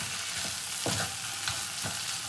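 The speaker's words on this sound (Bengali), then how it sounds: "তো মশলা আর মাছ একসাথে একটু তেলের সঙ্গে কষিয়ে নেবো" Fish and spice paste frying in oil for a Bengali koi fish bhapa, giving a dense, continuous close sizzle broken by a few rhythmic stirring scrapes, with no voices.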